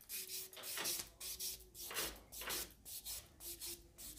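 A fingernail is buffed with a nail buffer in quick back-and-forth strokes, each producing a soft, close scratchy rasp in a steady rhythm, quiet and heard alone.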